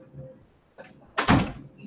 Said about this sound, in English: I'm gonna just lock the door on us.